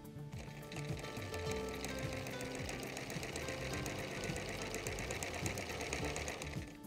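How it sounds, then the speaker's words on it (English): A sewing machine stitches a bias binding seam with a rapid, even mechanical whir and clatter, close and continuous throughout, with no voices. "We'll be stitching from this intersection to this intersection."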